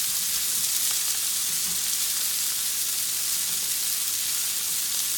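Cabbage, brussels sprouts and garlic frying in a pan give off a steady, even sizzle and hiss that continues without a break, with no voices.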